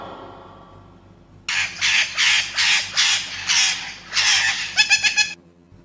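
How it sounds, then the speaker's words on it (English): A parrot squawks in a loud run of about eight harsh, rhythmic calls, the last ones quicker and choppier, with no voices over them. "P for parrot."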